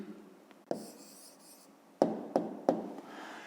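A pen scratches out a hand-written answer to a fifth-grade maths exercise on paper, with a few sharp taps and brief scribbled strokes up close in a quiet room.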